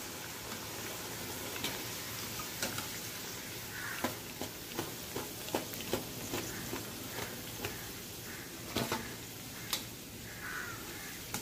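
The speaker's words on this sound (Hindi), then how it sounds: "साइड में आलू भी डाल देंगे तलने के लिए" Potatoes fry in hot oil in a pan beside small eggplants, giving a steady soft sizzle with scattered pops and crackles, fairly quiet throughout.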